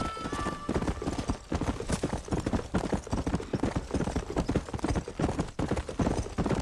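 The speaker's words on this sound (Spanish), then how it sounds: "Siento que aquí los caballos van súper rápido." Horses gallop at speed in Red Dead Redemption on Nintendo Switch, a dense, continuous run of loud hoofbeats with clattering rhythm and a brief whinny near the start, no talk over it.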